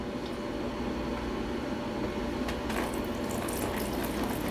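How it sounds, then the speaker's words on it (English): Reverse osmosis water pours from a 5-gallon jug into a new nano shrimp tank, a steady close splashing stream that grows brighter partway through, with no talking. "So we got the RO water here in a little 5-gallon jug."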